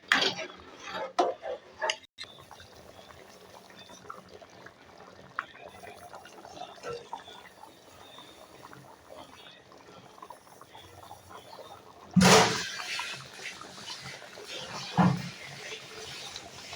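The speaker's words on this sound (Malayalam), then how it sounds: "ഇത് നന്നായിട്ടൊന്ന് തിളച്ച് കുറുകി വരട്ടെ." Jaggery syrup boiling down and thickening in a pan, a close, soft ticking and popping of bubbles that keeps going steadily, with a couple of louder bursts of clatter partway through.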